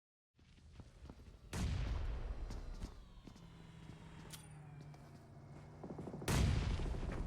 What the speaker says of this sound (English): Snaky with those grenades, it looks like